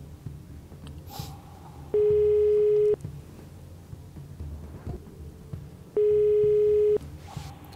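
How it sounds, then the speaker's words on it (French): Telephone call placed from a quiz show studio, two long steady ringback tones about a second each, evenly spaced, over quiet room murmur. "veuillez appeler le cousin de Monsieur Adil pour qu'il lui vienne en aide."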